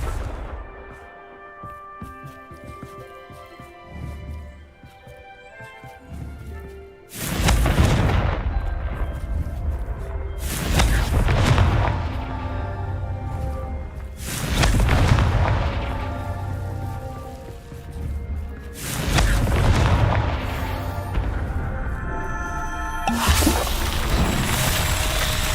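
Confringo blasting-curse explosions boom in Hogwarts Legacy, four heavy, loud detonations each followed by a long rumbling, crackling decay, set against a calm musical background.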